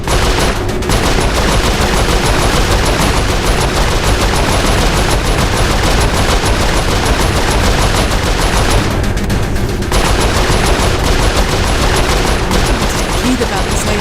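Continuous rapid gunfire from Saints Row IV, loud and dense throughout with brief breaks, mixed with game voices speaking over the shooting.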